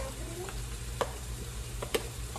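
Meat sizzles steadily in a hot pan for shepherd's pie, with a few sharp clicks of a utensil stirring and scraping through the fry.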